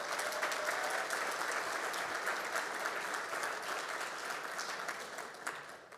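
An indoor audience at a school district state-of-the-district event claps for students in a continuous, fairly distant round of applause that slowly fades toward the end.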